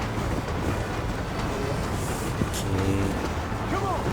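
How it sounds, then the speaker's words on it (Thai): A fast-moving train in the Red Dead Redemption video game gives a dense, steady rumble and rolling clatter, loud and constant throughout with no pause. "เชี่ยรถไฟก็ไปเร็วจัด"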